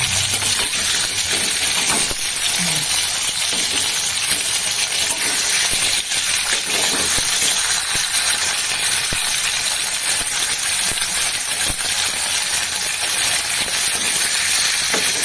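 Hilsa fish frying in a pan for doi ilish, a steady broadband sizzle with scattered crackles and small clinks, close and continuous, no talking.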